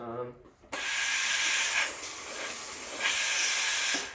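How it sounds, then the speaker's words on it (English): A Breville Oracle BES980 espresso machine's steam wand purges with a sudden loud, steady hiss that cuts in after a brief voice and continues in surges to the end. "It'll purge steam a few times."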